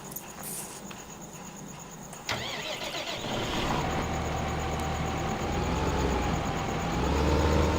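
A tractor engine in Farming Simulator 2015 cranks and catches about two seconds in, then settles into a steady, rumbling run that grows slightly louder toward the end.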